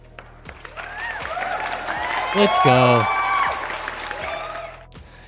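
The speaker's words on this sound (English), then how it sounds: "round of applause to everybody out here. Everybody who's in here deserves a clap." Applause with whoops during a live stock-market livestream, swelling and fading in the background while someone speaks energetically over it.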